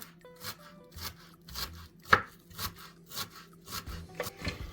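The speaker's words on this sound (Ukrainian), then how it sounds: "додаємо невеличкий пучечок кропу, нарізаємо його дрібнесенько" Steady rhythmic knife chopping on a board, quick repeated thuds and scrapes as a small bunch of dill is cut finely, close up.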